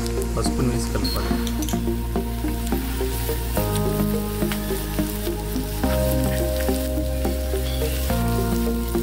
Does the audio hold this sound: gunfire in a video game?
no